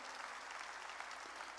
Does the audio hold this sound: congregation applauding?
yes